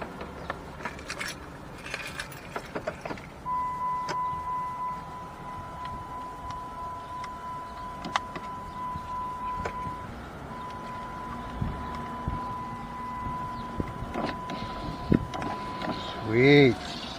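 Power window of a Dodge Grand Caravan minivan camper rolling down near the end, a short motor whir following a long stretch of a steady electronic tone, clicks and low background noise with a person talking.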